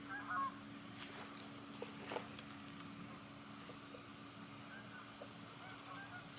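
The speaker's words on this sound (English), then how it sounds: "I hear geese." Geese honking somewhere out of sight, heard as faint, scattered calls over a steady background hum with no talking.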